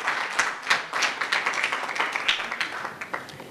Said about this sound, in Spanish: les pido un afectuoso aplauso, un cálido aplauso